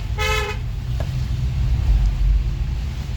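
A car horn toots once, brief and clear, over the low steady rumble of heavy street traffic on a foggy day, engines droning nearby throughout.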